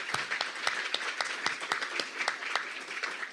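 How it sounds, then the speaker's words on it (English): A small audience applauds a pioneering patient at a medical session, with scattered, distinct claps rising and falling unevenly at moderate volume and no voices over them. "I think we need a round of applause for Kyla"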